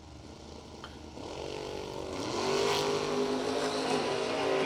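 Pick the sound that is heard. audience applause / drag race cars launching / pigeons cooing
drag race cars launching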